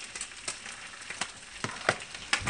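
Turkey bacon and French toast fry in a pan at breakfast, a quiet continuous sizzle broken by sharp crackling pops at irregular intervals, close and with no voices.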